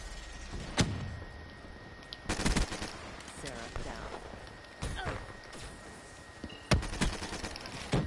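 Video game gunfire cracks in scattered sharp bursts, some close and loud and others fainter, with quieter game noise between the shots.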